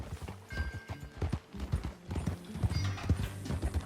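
Steady clip-clop of horse hooves at a brisk trotting rhythm in Red Dead Redemption 2, close and continuous, with faint background ambience.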